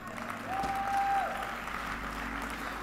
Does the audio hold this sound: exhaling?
no